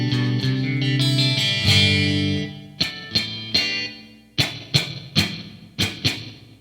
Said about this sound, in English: A little reverb on there.